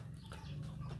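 Hens and pullets kept for gamefowl crossbreeding cluck softly on a farm, with a low steady hum of background noise.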